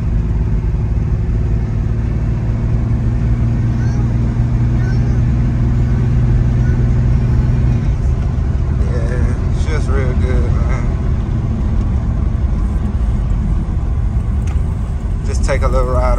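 A 1989 Chevy S-10 pickup drives along with a loud, constant low engine drone and road rumble filling the cabin throughout.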